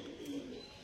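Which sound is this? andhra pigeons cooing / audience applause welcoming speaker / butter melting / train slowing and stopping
andhra pigeons cooing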